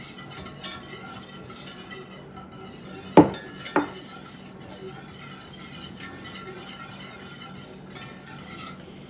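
Barbecue sauce made with tomato paste being stirred in a pot, giving soft scraping with a few sharper utensil clinks against the pot, close and moderately quiet, with faint background sizzle.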